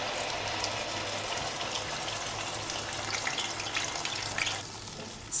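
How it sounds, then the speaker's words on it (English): Onion puree fries in hot cooking oil with a bay leaf, black cardamom and cumin seeds, giving a dense, even sizzle that hisses steadily and closely from start to end, with faint scattered crackles. "stir fry and cook until the color of the puree slightly changes"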